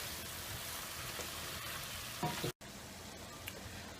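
Vegetable pasta sauce sizzles steadily in a hot pan, a bright crackling hiss with a brief cut near the middle before the sizzle resumes.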